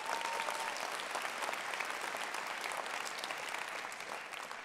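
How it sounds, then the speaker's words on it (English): A large TEDxDetroit conference audience applauds in a continuous, even wash of clapping, heard from a distance and fairly quiet, with no speech over it. "big round of applause"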